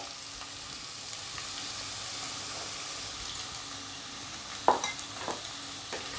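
Potato goes into green chillies frying in a pan for sabudana khichdi and gets stirred. A soft, continuous sizzle runs throughout, with a few close scraping clatters from the spoon near the end.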